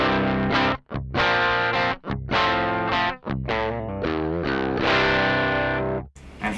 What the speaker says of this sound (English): This is what the Sansamp sounds like.